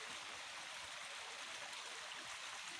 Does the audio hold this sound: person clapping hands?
no